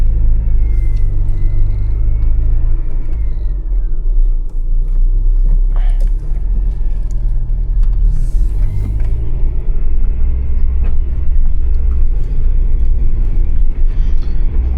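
1995 Acura Integra DC4 engine rumbling steadily while driving at night, a loud continuous low drone with road noise, heard from inside the car.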